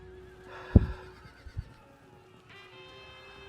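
A horse neighs loudly at close range in the Field of Glory II strategy game, a single whinny with a trailing snort, followed by a couple of softer hoof-like thumps over a quiet ambient bed.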